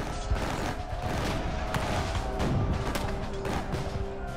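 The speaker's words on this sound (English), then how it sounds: "Soldiers clash with bayonets and fire at point-blank range." Musket gunfire in a War of 1812 battle, a dense rapid fusillade of cracking shots and crashes, loud and continuous throughout, with a voice faintly present.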